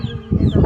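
A chicken clucks close by in a quick, low burst of a few short calls, brief and fairly loud.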